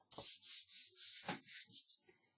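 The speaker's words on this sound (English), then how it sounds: "All you need to do is rub it, and it comes off." A fingertip rubs dried glue off a wooden bird house in a series of quick, even scrubbing strokes, close and soft, about seven passes before trailing off.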